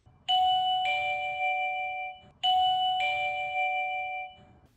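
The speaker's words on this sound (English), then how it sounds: "There is also a doorbell button which can be pressed that will sound the doorbell chime inside" A two-tone ding-dong doorbell chime from a TCL D2 Pro smart door lock sounds twice in succession, clear and ringing with a sustained decay, heard alone without any talk.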